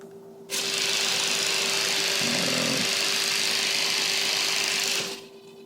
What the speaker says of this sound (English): if I snap the flaps back, I can induce an oscillation